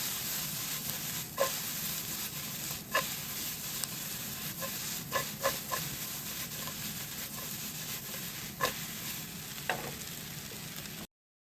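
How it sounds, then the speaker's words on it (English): Meat and onions sizzling in a pan while being stirred, a steady broad hiss of frying with scattered clinks and scrapes from the stirring, close and continuous until it cuts off. "stir it."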